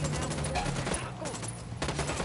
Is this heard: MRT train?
no